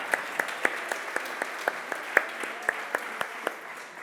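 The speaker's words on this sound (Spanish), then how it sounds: "Un aplauso para Fermín." Scattered, sparse clapping from a conference audience at a talk, individual claps spaced evenly and at moderate volume through the whole stretch.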